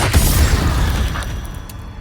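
Confringo blasting spell explosion in Hogwarts Legacy: a loud, close booming burst at the start that rumbles heavily and slowly fades over about two seconds, with no voices.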